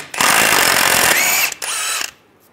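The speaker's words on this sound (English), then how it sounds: "I'm gonna use a 30 millimeter 12 point socket, take the axle nut off" A power tool with a 30 mm 12-point socket spins off the front axle nut of a 1998-2010 Volkswagen Beetle, one loud continuous whir with a short break before a second burst, no voices.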